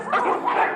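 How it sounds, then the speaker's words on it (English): Dogs in a video game let out a quick pair of yapping barks, close and loud, in a short burst. "They just keep barking."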